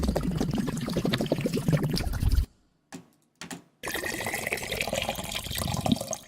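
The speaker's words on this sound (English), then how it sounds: "So one of them is a little bit lighter and the other one's more heavy and bubbly." Water gurgles heavily as a water bottle is turned over, with a dense, bubbly pour, a short pause broken by a couple of small splashes, then more sustained bubbling, all up close.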